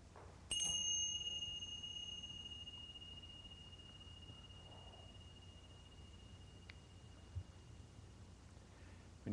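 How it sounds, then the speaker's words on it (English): A meditation bell struck once, its bright clear tone ringing out and slowly fading over several seconds in a quiet room, with faint background hiss. "When you hear the bell,"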